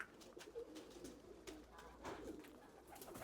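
Pigeons kept in a yard coo softly in low rolling calls, faint and somewhat distant, with scattered clicks and light background noise.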